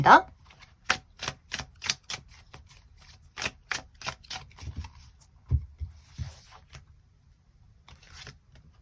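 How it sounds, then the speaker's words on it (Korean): Tarot cards being shuffled in a steady series of sharp, close card flicks and snaps, evenly spaced at first, then thinning out and tailing off. "추가 카드 뽑아보도록 하겠습니다."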